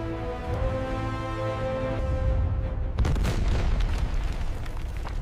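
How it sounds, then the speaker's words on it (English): Controlled rock blasting levels the ground for a dam foundation: one heavy, loud blast erupts partway through, cutting across sustained musical tones and leaving a rumbling tail. "Controlled explosions leveled the ground, creating a flat surface for the dam."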